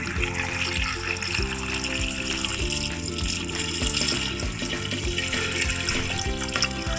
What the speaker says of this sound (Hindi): अब इसमें मैं डालती हूँ पानी अपने प्रेशर के हिसाब से।